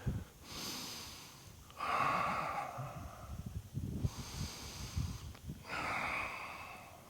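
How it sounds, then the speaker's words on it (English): Deep, slow breaths taken during a standing yoga pose, several long airy inhales and exhales close up, with no talking between them. "Deep breathing."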